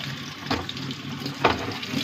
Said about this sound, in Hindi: सबसे पहले हमने ये प्रेस किया तो अभी आप ये देखें कि इसके अंदर पानी आ रहा है